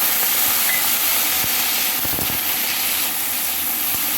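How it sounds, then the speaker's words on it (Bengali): Water poured into a hot pan of fried pointed gourd peels sizzles in a steady, loud hiss of steam, with a few soft knocks and clinks along the way. "এখন আমি একটুখানি জল অ্যাড করব, তাহলে সেদ্ধটা হতে দিতে হবে"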